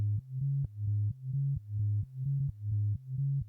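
A synth sub-bass sine wave layer for a modern classic house track: a deep, smooth low tone pulsing in a steady repeating rhythm, with short clicky attacks at each note, alone and fairly loud.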